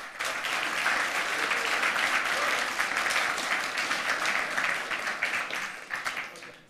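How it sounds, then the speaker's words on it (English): A warm round of applause from a hacker conference audience welcoming a speaker, loud and dense clapping that holds steady and then thins toward the end. "So please give him a warm round of applause."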